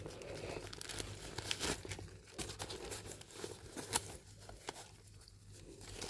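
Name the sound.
crinkling protective packaging while unboxing a Coach handbag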